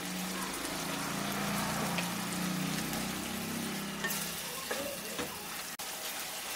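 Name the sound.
frying spice masala in pan for prawn curry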